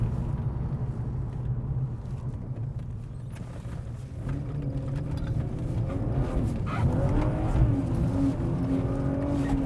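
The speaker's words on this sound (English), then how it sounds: "Broke traction quite easily there, don't know if you saw that." A BMW E36 328i Sport driven hard on a very wet back road, its engine rumbling steadily before rising and revving as the tyres break traction, heard from inside the car.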